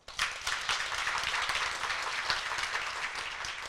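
An audience at a symposium plenary session claps steadily, a dense crackle of many hands that starts abruptly and holds at an even level.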